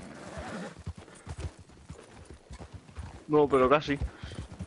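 Horse in the Red Dead Redemption video game whinnies loudly near the end, after soft hoof clip-clop and game ambience, with people talking throughout.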